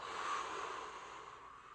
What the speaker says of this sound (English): That means breathing the oxygen, deep breath,